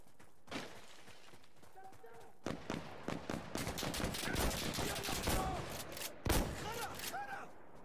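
Shotgun fire in the video game Insurgency Sandstorm, survival mode: sharp close blasts with dense bursts of gunfire and clatter through the middle, a heavy shot near the end, with someone talking over it.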